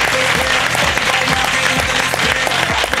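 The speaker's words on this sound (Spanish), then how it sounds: "Manuela Bellés, fort aplaudiment!" Loud, dense applause from a TV studio audience welcoming actress Manuela Vellés on the Arucitys show, a continuous roar of clapping with faint musical tones underneath.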